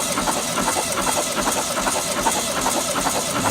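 A VW Sunbug engine that has sat for 30 years cranks over steadily on the starter during a compression test, a continuous rhythmic churning drone, fairly loud and close, with no voices.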